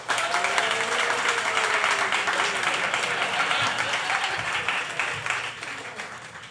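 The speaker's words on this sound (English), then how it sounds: "A very raucous crowd." A raucous debate-hall audience greets a speaker with sustained, dense applause and scattered cheers that hold steady and then taper slightly toward the end.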